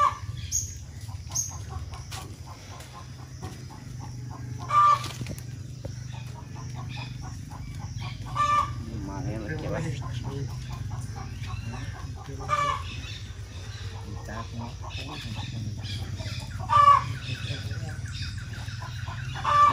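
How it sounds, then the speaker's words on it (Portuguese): Free-range yellow farm chickens clucking on a family smallholding, repeated close clucks and short calls over a low, steady background hum, with faint voices now and then. "Essa é a verdadeira galinha caipira."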